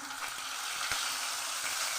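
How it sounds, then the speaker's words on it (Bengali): Onion paste hissing in hot oil left over from frying fish for a Bengali carp korma, a steady broad sizzle with faint scraping, close and unbroken, no voices. "এবার মাছ ভাজার তেলের মধ্যে আমি দিয়ে দিচ্ছি পেঁয়াজ বাটা।"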